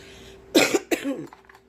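Two quick, fairly close coughs in a row, followed by a brief throaty trailing sound in an otherwise quiet space.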